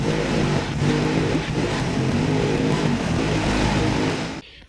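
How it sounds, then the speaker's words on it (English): Ford Sierra RS Cosworth running steadily while reversing into a parking space, a loud, continuous engine drone with little change in pitch that cuts off abruptly at the end. "as you would have seen in that clip of me reversing the car back into this space"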